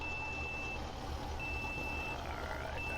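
Truck reversing alarm in Euro Truck Simulator 2, a steady high electronic beep sounding in long repeated tones over a low engine rumble, close and continuous.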